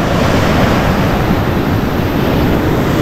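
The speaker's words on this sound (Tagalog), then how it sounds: "Kasi sobrang lakas talaga ng alon." Heavy surf roars steadily and loudly, a dense continuous wash of crashing water with wind buffeting the microphone.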